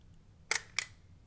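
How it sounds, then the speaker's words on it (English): Two quick mechanical clicks from the shutter of a vintage Argoflex 75 camera being pressed and released, close and crisp in an otherwise quiet room. "it takes a second for the shutter to fully actuate"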